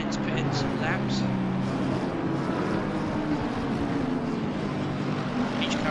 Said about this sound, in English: Each car sounds very different and unique from the other, especially the Lexus going right now.